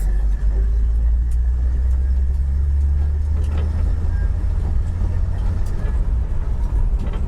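An AMC wagon out on the road, its engine giving a loud, steady low rumble with road and wind noise heard from inside the cabin, with no talking.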